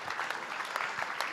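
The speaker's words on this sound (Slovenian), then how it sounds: "Potem nadaljujemo z aplavzom za smučarske skakalke in skakalce" An audience at a Slovenian Ski Association press conference claps for the ski jumpers, brisk, dense applause with crisp individual claps standing out, fairly loud and close.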